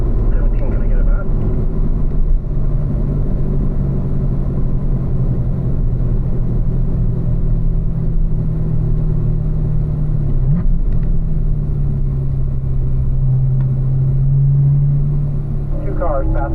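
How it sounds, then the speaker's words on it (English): Two race cars on a track passing on the back section, a loud sustained engine drone with a steady tone that bends and rises near the end, while a voice speaks over the engines. "Two cars passing on the back."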